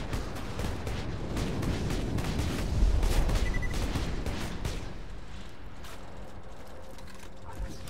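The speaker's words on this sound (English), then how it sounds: "I'm shooting dudes." Gunfire in the video game Borderlands 2: a continuous stream of rapid shots and mechanical clatter, loudest in the first half and near the middle, then thinning into quieter ambient game sound.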